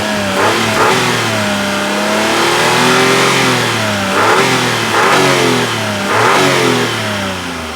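A Renault Vel Satis engine with a suspected bad wheel bearing revs repeatedly, rising and falling in several loud surges over a steady idle, close by with no voices.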